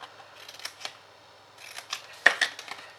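Scissors snipping through card sections for a Ferrero chocolate favour box, a few sharp close cuts scattered across a quiet tabletop, with a cluster of louder snips near the end.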